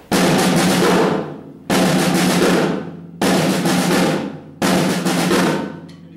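Four loud drum bursts, each a quick six-stroke roll that rings out before the next, evenly spaced with no talking.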